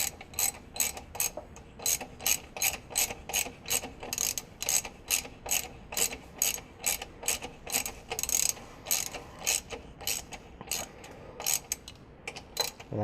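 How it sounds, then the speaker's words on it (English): A hand ratchet tightens a bolt on a car's high-torque mini starter, clicking in steady close bursts of rapid pawl ticks, repeated stroke after stroke with no voices. "We'll grab our ratchet. Get that bolt on there."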